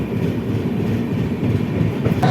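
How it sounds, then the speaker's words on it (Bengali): A steady low rumble of the Saraighat Express slowly starting to roll near Bolpur, continuous and fairly loud, with a faint rising hiss near the end. "ট্রেন একটু একটু করে গড়াতে শুরু করলো"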